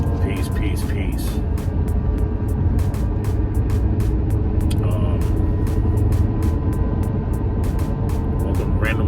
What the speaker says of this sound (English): Driving home from a long ass day.